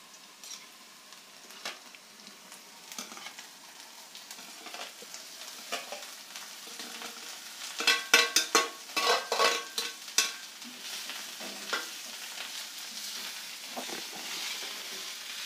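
Kudya flower vegetable frying in a pan with onion, salt and spices sizzles softly while a spoon stirs and scrapes it, with a cluster of louder scraping strokes in the middle, all close up.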